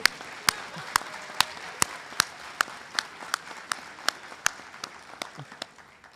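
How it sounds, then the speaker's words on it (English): Audience at a university commencement ceremony claps in a steady, evenly spaced rhythm, each sharp clap standing out over a low murmur of the crowd, moderately close and continuing throughout. "go ahead and clap"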